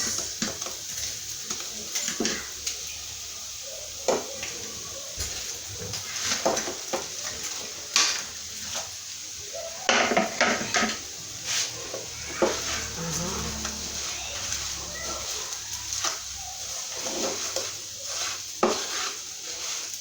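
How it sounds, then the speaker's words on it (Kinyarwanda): Potatoes with garlic stirred in a frying pan: repeated scrapes and metallic clinks of a utensil against the pan over a steady sizzle, close by and irregular in rhythm. "Ibirayi byanjye byo muri tungurusumu rero kugira ngo bitinomba, bivanga gutya"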